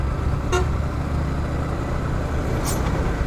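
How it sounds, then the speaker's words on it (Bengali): A diesel-engined vehicle goes by on a congested road, its steady low engine rumble filling the scene, with a short horn toot near the start and another brief high honk toward the end. "আওয়াজটাই অন্যরকম, ডিজেল ইঞ্জিনের গাড়ি মেবি।"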